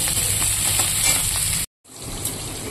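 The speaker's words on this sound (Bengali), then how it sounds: "আলু আর তিতা কলাটাকে এবার ভেজে নেবো।" Potato and bitter green banana fry in oil with turmeric and a green chilli, giving a steady close sizzle that cuts out briefly to silence and then resumes.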